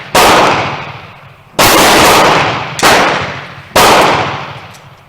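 Four loud, close rifle shots from a Remington rolling block 7x57 Uruguayan carbine, evenly spaced about a second apart, each a sharp crack with a long decaying echo.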